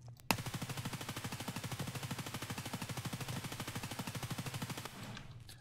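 Sustained automatic gunfire in Escape From Tarkov, a rapid, evenly spaced burst of loud shots lasting about four and a half seconds after one opening crack, with no talk.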